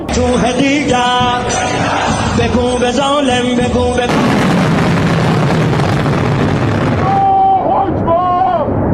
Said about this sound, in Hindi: उसके बाद आप देख रहे हैं बड़ा धमाका हुआ और धुएं का गुबार।